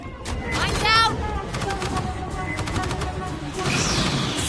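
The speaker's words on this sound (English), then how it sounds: "Gunfire must have drawn them." Rapid bursts of gunfire in the Aliens: Fireteam Elite shooter, loud and close, with sharp repeated shots and clattering volleys over a dense, busy combat background.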